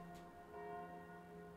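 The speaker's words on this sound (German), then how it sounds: "Bei mir ist hier schon wieder lautes Glockendödeln." Faint, steady bell tones ring continuously in the background, a soft sustained chiming with no speech over it.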